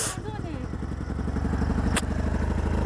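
A scooter runs along a muddy road with its steady engine hum and some rattling, continuous through the clip, with a brief sharp clatter near the end.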